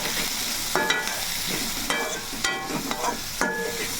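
Curry leaves fry in hot oil, browning in a pan for a wild mushroom dish. A close, continuous sizzle is punctuated by several distinct scraping strokes of a stirring spoon.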